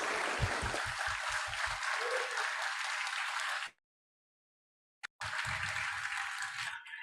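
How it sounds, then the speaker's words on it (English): A memorial gathering honouring a retired police major general breaks into a loud round of applause from many people. A rhythmic low thumping runs beneath it at the start, then a sudden gap of silence falls before the clapping resumes. "giving him a thunderous round of applause"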